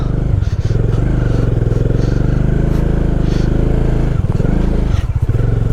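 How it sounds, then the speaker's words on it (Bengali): A heavy motorbike works its way down a rough descent on the mountain track from Sillery Gaon to Rishikhola in Sikkim. The engine drones loud and close throughout with brief dips and clattering, and voices may be faintly mixed in. "বাইকটা আসলে এত ওয়েট তার জন্য সমস্যা হচ্ছে"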